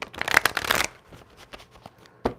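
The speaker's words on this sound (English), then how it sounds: "I got a different deck I want to use. I just gotta shuffle this." A deck of playing cards is shuffled up close, with a dense riffling burst over the first second, then scattered softer card taps and a final short riffle.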